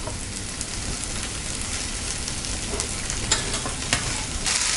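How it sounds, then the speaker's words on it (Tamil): Stuffed lady's finger (okra) stir-fried in a pan over a medium flame gives a steady close sizzle, with scraping stirs and a few brighter crackles toward the end; no one speaks. "நம்ம மீடியம் ஃப்ளேமில் வச்சுட்டு பொறுமையாக பரட்டி விடணும்."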